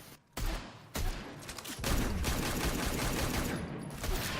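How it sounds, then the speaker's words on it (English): Deadshot firing his rifle in a fighting video game: a quick burst of sharp shots followed by a sustained rattling fusillade with crackling impacts, loud and continuous. "That meter burn rifle with the insane pushback is doing work to keep him away though"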